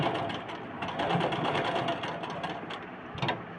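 A sewing machine runs steadily, stitching blouse fabric with a close, continuous mechanical whir and a slight rise and fall in speed, with no voices.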